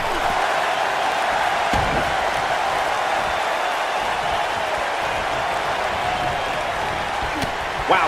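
A passionate wrestling arena crowd in the video game WWE 2K19 cheers in a steady, dense roar that fills the whole stretch, with a few sharp accents cutting through.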